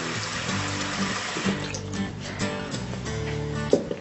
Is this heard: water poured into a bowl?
yes